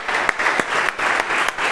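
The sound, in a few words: church congregation applauding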